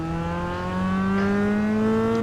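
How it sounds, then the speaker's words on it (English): Mazda MX-5 Cup race car at Okayama circuit, its engine note rising steadily as it accelerates in gear, a loud, continuous close-up drone with no talk over it. "You'll also get a feel for it in terms of the note of the engine"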